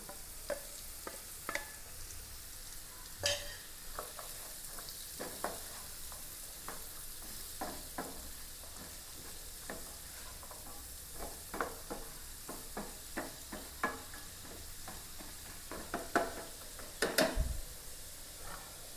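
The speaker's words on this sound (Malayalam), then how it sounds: "അഞ്ചാറ് ചെമ്മീനാണ് ചെറിയ ചെമ്മീനിട്ട് കൊടുക്കാം" Small prawns, five or six of them, fry on a low flame in a pan while being stirred. A steady soft sizzle runs throughout, broken by irregular scraping and clinking from the stirring utensil, with a sharper cluster of knocks near the end. No talking.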